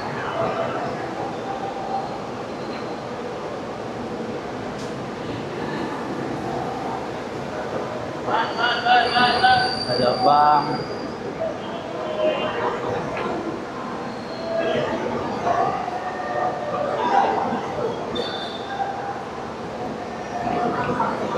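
A light rail train rumbles past with squealing, screeching wheels on the rails while people talk over the steady noise.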